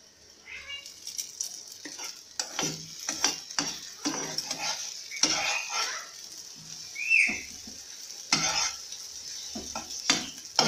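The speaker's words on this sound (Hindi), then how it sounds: "इसको हमें बहुत ज़्यादा फ्राई नहीं करना है।" Chicken fried rice sizzles in a pan while a spatula scrapes and stirs in irregular, close strokes over a faint background hiss, with no voices.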